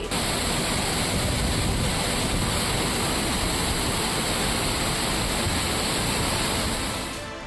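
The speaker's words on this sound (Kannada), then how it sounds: "ಅಪಾಯದ ಮಟ್ಟ ಮೀರಿ ಸುರುಮನೆ ಜಲಪಾತ ಧುಮ್ಮಿಕ್ಕುತ್ತಿದೆ" Steady, loud rushing water roars without a break as Surumane Falls gushes in monsoon flood, a dense broadband wash that fades slightly at the very end.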